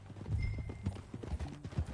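Horse hooves clip-clopping at a riding pace in Red Dead Redemption 2, a quick irregular run of dull thuds fairly close, with no voices over them.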